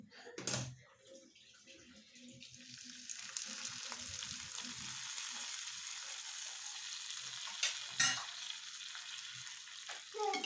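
Carrot halwa with cashews and almonds is stirred in a pan, giving soft sizzling and scraping strokes with a couple of sharper clinks, close and fairly quiet.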